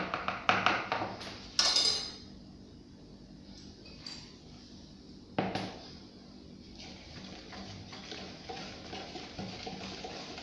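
Cocoa powder being mixed with other ingredients in a bowl for a chocolate cake, with utensil clinks and taps against the bowl, louder at the start, then soft steady stirring.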